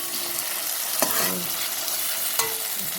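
Chicken-style kosha sizzling in a pan while being stirred, a steady close fry with scraping stirs and a couple of sharp clinks against the pan.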